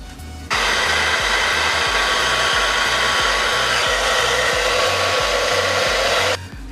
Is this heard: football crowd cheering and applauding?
no